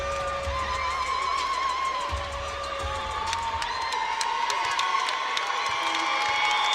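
A record crowd cheers at a women's college basketball game between #1 South Carolina and Ole Miss, a sustained, loud roar of voices and whoops in an arena, with sneaker squeaks and whistles cutting through.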